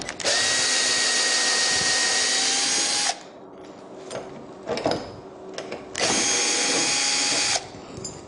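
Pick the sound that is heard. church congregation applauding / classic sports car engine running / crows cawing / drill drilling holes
drill drilling holes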